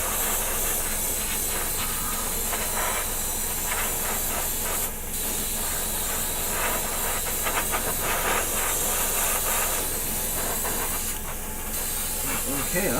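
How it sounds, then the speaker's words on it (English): Airbrush spraying paint onto a model kit part for a Pegasus Hobbies War of the Worlds build, a loud continuous close-up hiss with a compressor-like rush underneath and brief dips where the spray pauses. "So just make sure to keep your airbrush moving."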